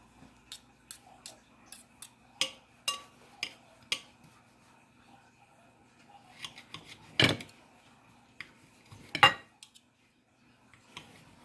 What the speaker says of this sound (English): I picked a dull knife to cut the pork chop.